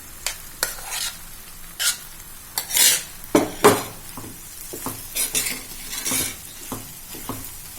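A spoon stirs vegetable urad dal khichdi through roasted spices and tomato in a pan, with scraping strokes and soft clinks against the metal at an irregular rhythm over a light sizzle, close and fairly quiet, no voices.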